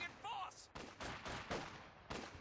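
Artillery and gunfire from Company of Heroes 2 battle: a string of sharp, loud broadband blasts roughly every half second, with a brief tonal whine near the start.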